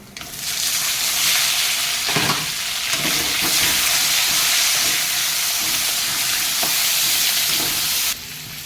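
Tomato and capsicum dropped into hot oil with cardamom, dried red chilli, cinnamon, cloves and cumin, setting off a loud, sustained sizzle and hiss, with a few stirring clacks along the way before the frying quietens near the end.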